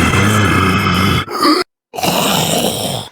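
A voice imitates loud snoring, giving long, rough, growling snore sounds close to the microphone, broken by a short gap of silence before another drawn-out snore.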